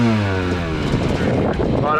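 A Yamaha YZ250 dirt bike climbs a hill in a King of the Hill hill-climb event, its engine loud and close and rising in pitch as it revs, with a voice talking over it.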